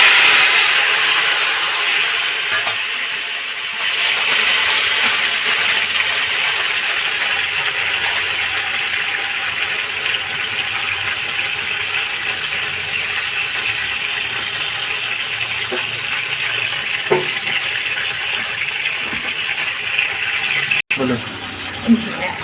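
Grated tomato hits hot oil tempered with fenugreek, giving a loud, continuous sizzle and hiss that fades slightly, then carries on steadily, with a couple of brief clicks near the end and no speech over it.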